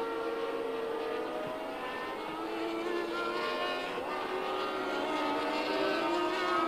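Formula 1 cars from the 1981 Brazilian Grand Prix race through rain and spray, their engines a continuous high whine with a faint wet hiss, heard at a moderate distance.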